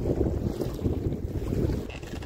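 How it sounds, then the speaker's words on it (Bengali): Stormy wind roars over a fishing boat in the Sundarbans, a loud, steady low buffeting with rushing gusts and no voices. "চারিদিকে মেঘ, ঝোড়ো হাওয়া উঠছে"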